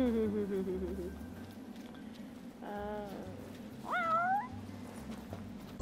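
A cat in the Final Fantasy XV video game meows several times in short rising and falling calls over a low, steady ambient backdrop, with no talking.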